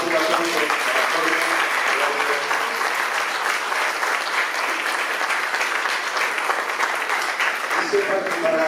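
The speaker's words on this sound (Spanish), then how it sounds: "les pido un aplauso" An audience applauds after a talk by Jorge Taiana in Argentina, a steady, moderately distant wash of many hands clapping for several seconds, with voices faintly audible at the start and end.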